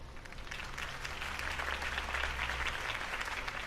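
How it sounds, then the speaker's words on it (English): Applause from a crowd after a mayoral campaign speech in a Batman game, a steady wash of clapping lasting a few seconds, fairly soft and heard without voices. "could have heard that applause"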